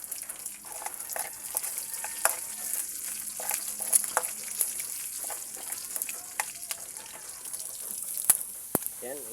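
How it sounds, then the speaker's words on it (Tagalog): Onion and garlic sautéing in a pan, a soft steady sizzle with clicks and scrapes of stirring scattered across it, fairly quiet and close. "Mag-isa na tayo ng sibuyas at bawang."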